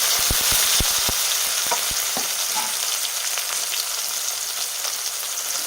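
Chopped tomatoes hit hot oil with garlic and cumin in a pan for drumstick amti, a bright continuous sizzle with a few sharp ticks and pops early on before it settles into an even hiss.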